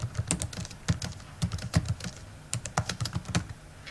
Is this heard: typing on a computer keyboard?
yes